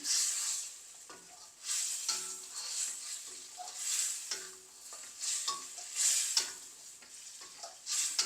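Brinjal curry being stirred after thick coconut milk is poured in, a spoon scraping and sloshing through the thick gravy in repeated strokes with a soft sizzle underneath, close and moderately quiet, no voices.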